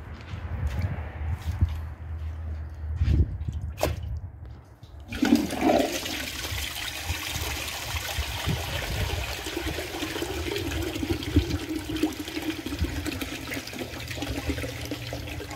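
A 2001 Capizzi toilet flushes with a washcloth in the bowl: a loud rushing gurgle starts after a few thumps and handling noises, then settles into steady refilling water.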